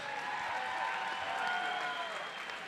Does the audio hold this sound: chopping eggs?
no